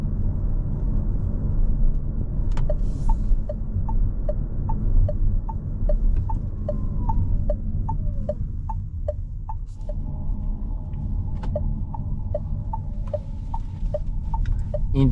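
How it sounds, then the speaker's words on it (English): Turn indicator of a 2026 Nissan Micra ticking in a steady, pronounced rhythm inside the cabin during a night drive, a long run of evenly spaced clicks over constant engine and road rumble. "Indicator sound is very pronounced."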